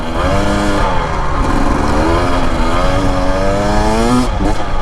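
A 2025 Husqvarna TE250 dirt bike revving in third gear on a desert trail, loud and close, its engine note climbing and falling steadily with no break for the whole stretch and no speech.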